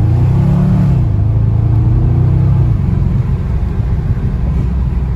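A tuned street car's engine revving loudly at night in Lyon, a deep continuous rumble with rising and falling harmonics that eases slightly after a few seconds.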